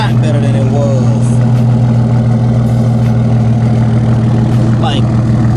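A car's engine idles through its exhaust in a steady low rumble, continuous and loud close by, with faint talking and scattered higher noises on top.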